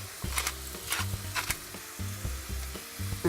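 Garlic sautéing in olive oil in a pan, a soft steady sizzle broken by repeated stirring strokes at an even rhythm, close and fairly quiet.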